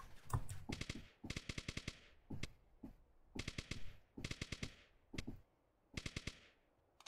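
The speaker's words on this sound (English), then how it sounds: "And I'll snipe him. I'll snipe him easy." Sniper rifle gunfire in the Roblox game Polybattle comes as bursts of rapid, crisp digital shots, several volleys separated by short gaps, with single cracks in between, quiet and with no voices.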